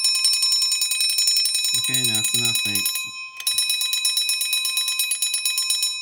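A shrill, rapid metallic alarm clock bell rings continuously and loudly; someone speaks briefly over it, and the ringing stops for a moment before starting again.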